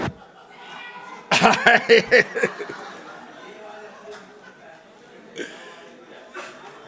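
People at a medical conference event imitate a cat's meow, a burst of several voices producing wavering meow-like calls mixed with laughter, then quieter scattered chatter and a few isolated vocal sounds afterward.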